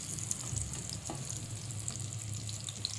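Ridge gourd drops into a hot oil tempering with curry leaves, setting off a steady, even sizzle and frying hiss that runs throughout, with a few faint stirring scrapes.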